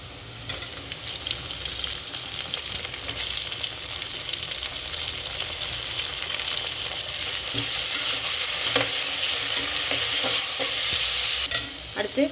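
Chicken biryani ingredients sautéing in a pan with tomato, a steady close sizzle with frequent stirring scrapes and clinks throughout, growing slightly louder toward the end.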